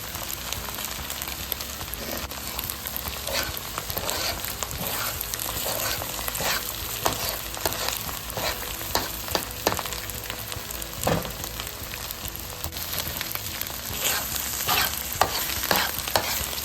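An egg fries and is stirred in a pan for chicken fried rice, with a steady close sizzle and repeated scraping, clacking strokes of the utensil throughout.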